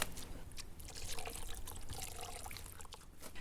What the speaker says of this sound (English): Good splash of brandy.